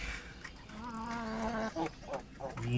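An Aseel hen clucking close by, a drawn-out call followed by short clucks, with no talking.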